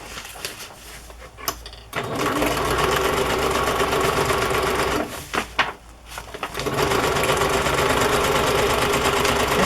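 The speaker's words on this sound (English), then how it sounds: "So I think I will just do another row of stitching down there." Sewing machine stitching a row across a fabric journal page, a loud steady motorized whir running for long stretches with two brief pauses and restarts.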